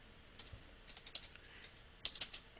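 Quiet typing on a computer keyboard while entering network configuration commands: scattered soft clicks in small irregular clusters, with a brighter burst of keystrokes near the end, close and faint.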